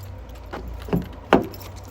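Keys for a 2017 Ford Transit Connect 1.5 TDCi van jangle in two short, fairly close bursts over a steady low engine-like hum.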